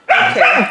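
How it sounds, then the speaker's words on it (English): A dog barks in one sharp, close, loud bark with a whimpering, yelping tail, and a person speaks briefly. "Sorry about the barking in the background."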